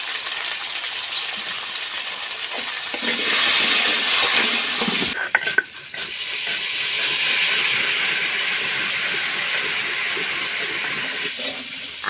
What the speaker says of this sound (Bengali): আলুটা ভেজে নিয়ে নেব।